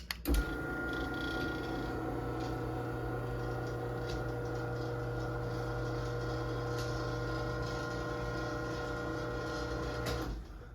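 A Chamberlain B550 garage door opener runs the door down, its motor giving a steady, even mechanical whir for about ten seconds, close and moderately loud, starting and stopping with brief clunks.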